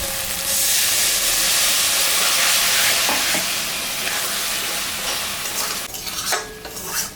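Water poured into a pan of shapla (water lily) curry sets off a loud, steady sizzle and hiss of frying and steam, with a few stirring scrapes toward the end.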